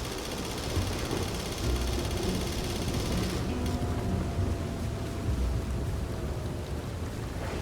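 Steady heavy rain pours through a dark stormy night in Red Dead Redemption 2, a dense continuous hiss with low thunder rumbling underneath and no voices.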